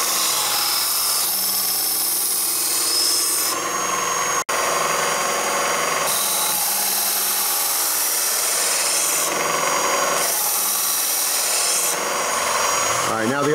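Hand filing metal on the blade bevel of a Spyderco Spyderfly balisong knife, with long steady rasping strokes in repeated passes, close and loud, separated by short pauses.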